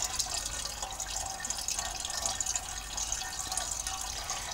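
Wort from an oatmeal stout mash drains out of the spent grain in a colander into a pot on a stovetop, a steady close trickle and splash of liquid running continuously without talk.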